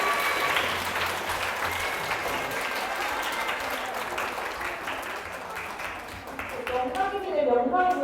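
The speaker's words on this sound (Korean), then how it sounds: "다시 한번 큰 박수 부탁드립니다" A concert audience gives sustained, dense applause at the close of a lecture on Korean history. The clapping is loud and steady throughout, and a voice briefly emerges near the end.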